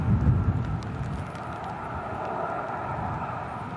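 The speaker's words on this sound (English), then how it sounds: "Another aircraft going to land in a moment." A Ryanair Boeing 737-800 from Malaga approaches to land at Manchester Airport on a windy day, heard as a steady, broad jet roar that swells slightly at the start and holds evenly, moderately loud, with no voices.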